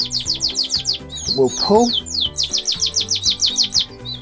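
A canary chirps repeatedly while being caught and ringed, in quick bright trills and tweets. A brief lower squawking burst comes midway, and a voice speaks briefly.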